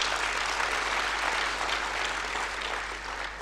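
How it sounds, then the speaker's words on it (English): Audience applause for a space agency panel at a conference, a full continuous clapping from a crowd that holds steady and then tapers slightly toward the end, over a low hum. "Please give them another round of applause."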